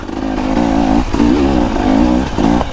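A 2024 KTM EXC 300 two-stroke enduro motorcycle revs in short repeated bursts while riding hard enduro terrain. The engine is loud and close, its pitch rising and falling in a quick rhythmic pattern.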